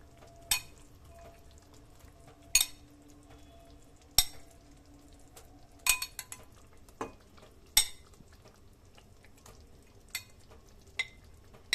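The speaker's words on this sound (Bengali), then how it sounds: "এবার চিকেনের কাবাবের আইটেমগুলো আস্তে আস্তে দিয়ে দেবো।" Chicken kabab pieces go into a ready, oily gravy in a pan and get stirred, a low simmer under a series of sharp, evenly spaced spoon clacks against the pan, no voices.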